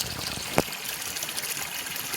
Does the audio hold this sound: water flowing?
yes